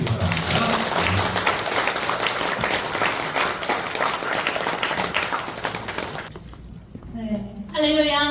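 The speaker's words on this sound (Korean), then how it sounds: "큰 박수 보내주시기 바랍니다." Audience applause at a church choir founding thanksgiving service, a dense steady wash of clapping filling the hall for about six seconds before dying away, followed by a voice speaking alone.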